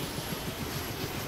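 Biplane engine in the DayZ video game, a steady broadband drone with low rumbling throb, loud and continuous throughout, no talk.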